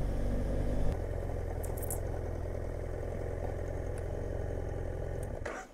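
A motorcycle idles at a gate, a close, steady low rumble that runs throughout and cuts off at the end.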